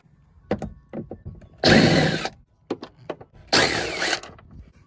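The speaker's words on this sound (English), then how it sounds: "get back there and loosen those bolts" Bolts on a Mazda Miata seat being loosened in a drift car, heard as scattered metallic clicks and ratcheting taps with two louder, longer bursts of tool noise, close up and with no talking.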